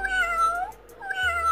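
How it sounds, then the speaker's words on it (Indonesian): A children's animal sound book plays a recorded cat meow twice, each a clear, close electronic meow with a short gap between them. "ini ada suara meong nih"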